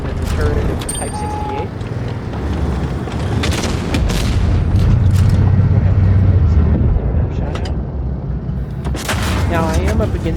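Tank cannon fire in World of Tanks, with deep booming shots and rumbling engine and battle noise under someone talking over the action.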